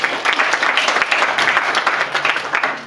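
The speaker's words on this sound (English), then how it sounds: "let's give him a round of applause" An audience at a panel event applauds, dense steady clapping from many hands that holds at full strength for a few seconds before starting to thin, loud and close.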